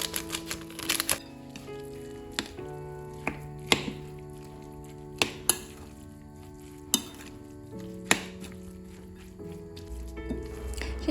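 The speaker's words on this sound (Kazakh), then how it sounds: "жақсылап араластырамыз" Minced meat mixed with rice, salt, pepper and coriander for meatballs, giving soft squelching and stirring with scattered sharp taps against the bowl over a quiet background of music-like tones.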